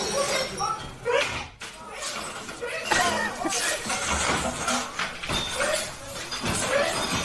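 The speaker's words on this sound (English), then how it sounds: "there is a lot of glass being thrown here" Glass bottles and condiment containers are thrown and shatter in a shop, sharp breaking crashes and thuds repeating across the stretch amid laughter and loud voices.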